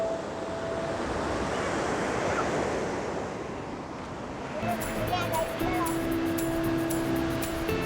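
Sea wind and surf at Ulee Lheu beach roar as a dense, steady wash of waves and gusting wind, loud and close to the microphone, with faint tonal sounds entering near the end.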